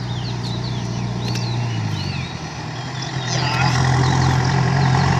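A heavy, truck-like engine approaches along a road, its low rumble growing louder over the second half while birds chirp in the background.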